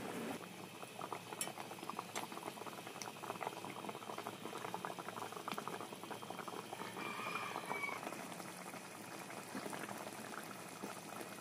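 Water boiling in a pot for rui fish curry, a soft but steady bubbling and churning that continues without pause, with a few faint clinks.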